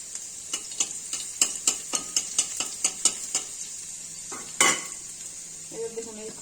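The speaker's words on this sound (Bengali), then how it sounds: "কেটে রাখা পেঁয়াজগুলো ঝিরিঝিরি করে, এই যে থেতো করা রসুন মাঝখানে দিয়ে দিলাম।" Sliced onion and crushed garlic fry with small kachki fish in a pan, a faint sizzle running under a quick series of sharp spatula clicks and scrapes, then a louder clatter and a quieter tail.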